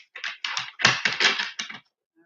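Tarot cards are pulled out and handled close up, producing a quick series of crisp papery taps and slides, then quiet.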